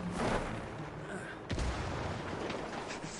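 Explosions go off in the Ghost Recon Wildlands video game: two faint booming bursts, one near the start and a sharper one mid-way, over a quiet background, with a voice talking.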